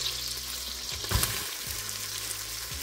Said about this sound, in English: I'm gonna let this saute for just a minute